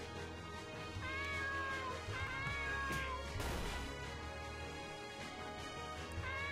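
Video game cat meows from an RPG battle, several rising and falling mews repeating over a steady game soundtrack, moderately loud and close.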